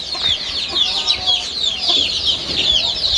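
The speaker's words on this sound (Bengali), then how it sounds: "এই যে এলাকার দেশি মুরগির বাচ্চা" Small farm flock of local desi chickens with chicks, their continuous high clucking and peeping close by and fairly loud, overlapping throughout with no talk.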